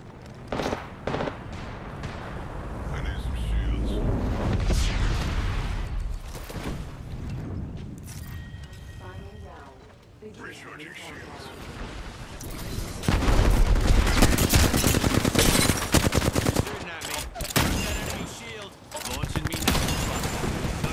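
Apex Legends gunfire crackles through a chaotic endgame fight, with dense bursts of rapid shots coming near and far and growing heavier in the later half. Voice lines and callouts break in at intervals.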